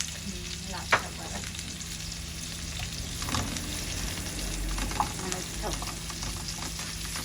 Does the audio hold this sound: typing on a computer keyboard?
no